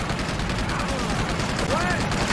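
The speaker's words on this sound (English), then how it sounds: "Oh, they got a turret!" A gun turret firing in the video game Uncharted 2, a continuous rapid stream of shots forming a loud, dense rattle through the whole stretch, with faint voices over it.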